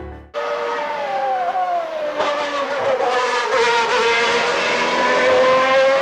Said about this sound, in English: you can pick it up from the vibrato of the engine